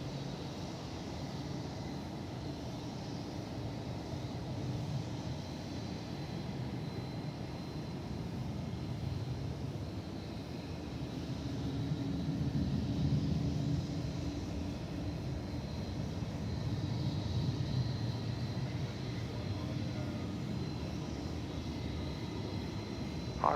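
Aircraft engines roar steadily from a DFW Airport runway, a continuous broad rumble that swells and eases over the whole stretch with no talking.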